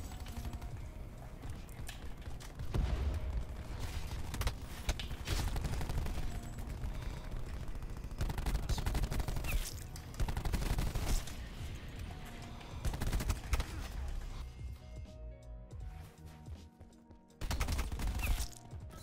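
Rapid bursts of automatic gunfire in a Call of Duty Black Ops 4 match on Nuketown crackle almost continuously, loud and near, with brief lulls between volleys.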